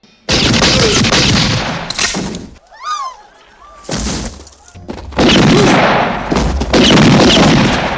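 Gunfire in a western film shootout: loud bursts of rapid shots with a short whistling ricochet-like pause between, then heavy volleys resuming, all close and dense.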